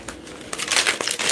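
Playing cards being shuffled during a tarot reading, a crisp papery riffle that swells in short bursts, close and fairly loud, with no talk over it.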